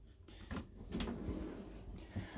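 Proper storage drawers in a Morelo Loft luxury motorhome sliding open and shut, a few close soft thuds and rattles one after another inside the vehicle, with no talking.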